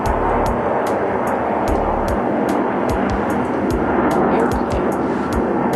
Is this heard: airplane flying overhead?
yes